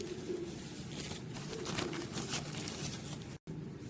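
Pigeons coo softly and repeatedly in a loft, faint low calls under steady background noise with a brief dropout near the end.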